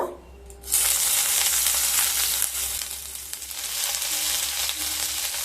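Loud, continuous sizzling of six or seven chopped garlic cloves frying in hot oil, starting abruptly after a brief quiet moment and crackling steadily throughout.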